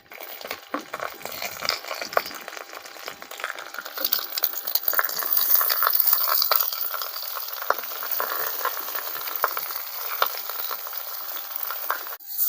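Onions fry in a hot pan with a busy crackling sizzle full of sharp pops, stirred now and then as wild fig (kathumbar) goes in, loud and close throughout with no voices.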